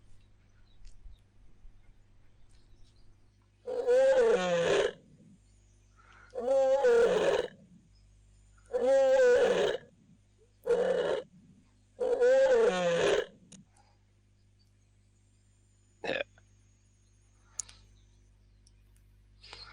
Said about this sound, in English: the only animal that walks towards a lion roar is another lion